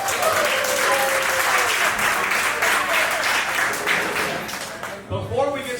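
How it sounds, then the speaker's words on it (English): An audience at a community meeting about a proposed indoor/outdoor Mt. Juliet parks and recreation facility gives a hearty round of applause, dense clapping that tapers off near the end as a voice begins speaking. "If you're excited for this new Parks, let's give it a round of applause."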